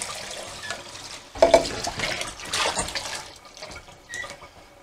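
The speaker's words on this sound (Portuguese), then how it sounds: "água fria está a correr aqui para dentro" Cold tap water runs into a kitchen sink over cooked spaghetti, a steady close rush that swells into louder splashing surges partway through before settling again.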